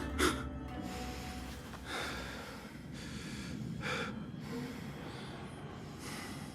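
A video game character in Assassin's Creed Mirage breathes heavily, with several rough, close breaths and snorting gasps in an uneven rhythm over a low ambient bed.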